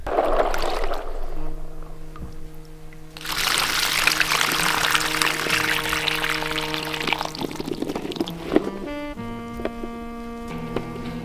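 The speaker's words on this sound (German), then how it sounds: "Hier schwimmen so einige und dann waschen wir die." Chestnuts are washed in water, heard as sloshing and pouring with trickling splashes that swell and fall over several seconds. Steady tones hum in the background and there is no speech.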